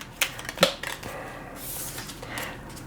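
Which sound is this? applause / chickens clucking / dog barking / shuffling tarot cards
shuffling tarot cards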